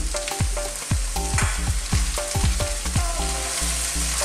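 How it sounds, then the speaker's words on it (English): Capsicum, cabbage and bok choy stir-frying in a wok, a loud continuous sizzle broken by rhythmic scraping and tossing strokes, with no talking. "So we will fry this for again, maximum 2 minutes"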